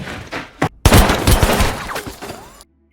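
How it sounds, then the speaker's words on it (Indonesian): Gunshot in a gangster action film set around a prison: a single sharp, loud blast after a brief pause, with a rough, noisy tail that fades before silence. "Setelah itu dia pun menembaknya"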